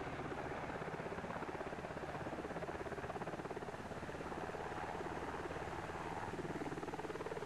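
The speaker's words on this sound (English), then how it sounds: "Really kicking the helicopter around here" Helicopter hovering low during sideways landing training on a rotary wing course, a continuous rhythmic rotor thump with a steady engine whine, close and unbroken.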